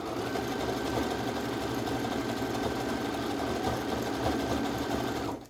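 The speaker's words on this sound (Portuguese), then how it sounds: "E já vou começar a minha costura desta alcinha." A sewing machine stitches a tank top strap in one steady, fast mechanical run with a faint whine, close and even, stopping abruptly at the end.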